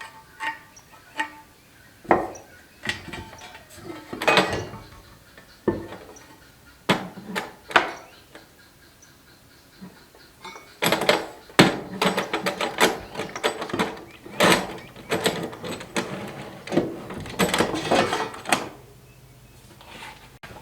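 Parts of an LED solar street light being slid and fitted together by hand, giving a run of sharp plastic clicks, taps and knocks that comes sparse and irregular at first, then turns into a denser cluster of rattling clicks.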